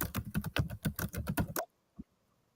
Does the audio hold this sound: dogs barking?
no